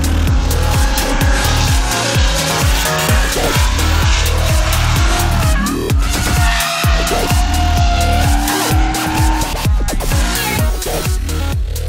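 A BMW E36 drift car fitted with an LS1 V8 and a steering kit drifts at a competition event, its engine roaring and revving hard under loud, sustained tire squeal, with repeated throttle stabs and bursts of skidding.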